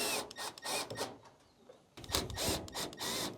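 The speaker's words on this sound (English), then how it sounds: "let's go ahead and take those screws out" A power screwdriver bit whirs in short repeated bursts, backing screws out of the lid of a gas dryer, close and loud with a brief pause between runs.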